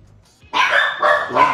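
Several household dogs break into loud, close barking in three quick bursts, sudden after near silence.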